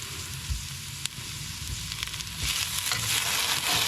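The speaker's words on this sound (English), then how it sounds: "turn it down a little bit and add the shallots now" Shallots sizzle and fry in a Remoska Tria pan in a motorhome kitchen, a steady close crackle with soft stirring scrapes that grows slightly louder toward the end.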